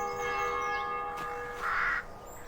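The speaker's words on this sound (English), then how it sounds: "The church bells are tolling." A church bell in the game The Black Mirror rings with a long, sustained tone that hums and fades, heard at a distance with a brief bird call alongside.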